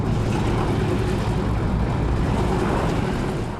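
A World War II B-17 Flying Fortress bomber in flight, heard from on board as a loud, steady, unbroken drone of piston engines with dense rumble throughout, with no talking.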